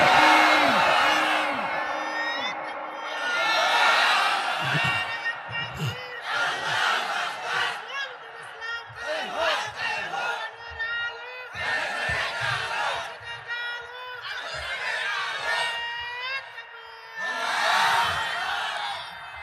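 A large crowd at an Islamic religious sermon gathering shouts a chant of takbir (Allahu Akbar) back in rhythmic, repeated call-and-response bursts, loud and massed, with pauses between the roaring waves.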